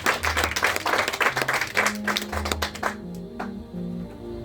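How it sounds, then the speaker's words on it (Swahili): A church congregation claps in a burst of rhythmic applause with musical tones underneath, the clapping fading out partway through and leaving quieter sustained notes. "sasa mpigie makofi moja"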